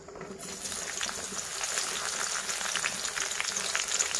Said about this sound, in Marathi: इथं काय मी मिरच्या घेतल्यात ते तळून घेते